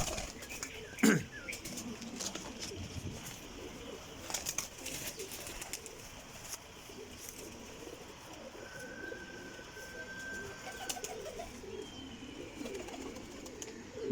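Pigeons, old Chinese fancy birds kept in a loft, coo softly and steadily at a distance, with a sharp flurry of wing flaps near the start and faint background noise throughout.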